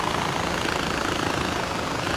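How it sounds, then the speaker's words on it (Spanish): A helicopter in the video game Far Cry 4 gives off a steady, dense rotor and engine roar, loud and unbroken throughout, with no speech over it. "Ahora ya que tengo un helicóptero."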